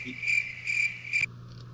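A cricket sound effect gives three evenly spaced, shrill chirping pulses, clear and fairly loud over a low hum, then cuts off abruptly during a live comedy talk show.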